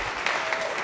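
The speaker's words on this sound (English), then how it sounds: "you can applaud or just bask in the beauty of it." An audience claps steadily through a brief burst, a dense wash of many hands at moderate distance with no talk.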